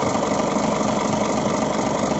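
An Isuzu Forward cargo dropside truck with crane idles on its diesel engine, a steady close rumble with even, continuous throb and no talk.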